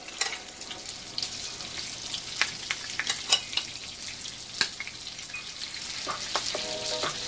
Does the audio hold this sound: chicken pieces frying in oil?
yes